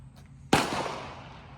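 A single loud, sharp rifle shot from a Christensen Mesa FFT, a lightweight bolt-action rifle, fired close by outdoors, followed by a long rolling echo that fades.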